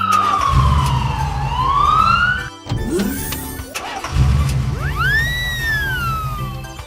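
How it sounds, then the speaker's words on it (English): A police car siren wails loudly nearby, sweeping down and back up in pitch. Brief engine and traffic noise follows, then further rising, falling siren tones over a low vehicle rumble. "Police car."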